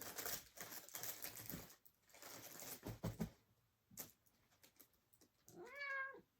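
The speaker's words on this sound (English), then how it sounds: "My cat is coming. I hear tiny paws. Meow." A house cat gives one clear, rising and falling meow near the end, after a stretch of close tapping and rustling.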